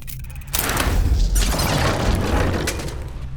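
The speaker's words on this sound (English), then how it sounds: "The explosions didn't affect the room." A dense rumbling burst of explosions in the video game Verne: The Shape of Fantasy, a loud boom and crackling debris continuing for several seconds with no talking.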